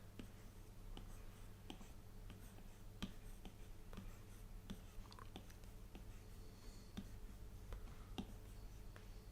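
An Apple Pencil drawing on an iPad Pro screen makes faint, sparse tapping ticks and soft strokes at an irregular pace over a quiet, low background hum.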